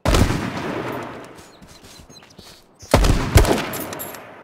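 Gunfire in the H1Z1 survival shooter: a close, loud burst of rapid shots at the start, a quieter stretch of scattered distant pops, then another sharp cluster of shots near the end.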